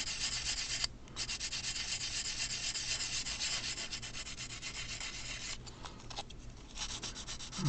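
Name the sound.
rubbing off model panel lines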